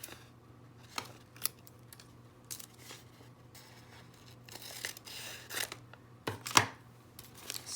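Scissors cutting open a paper sewing pattern, a series of sharp snips and papery rustles and crinkles at irregular intervals, close and fairly quiet with no voices.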